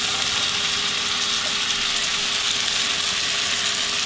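Mushrooms and onion sizzle steadily in a hot pan, a continuous bright frying hiss with a faint low hum beneath, even and unbroken with no talking.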